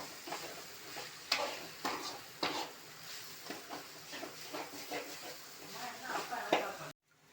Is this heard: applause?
no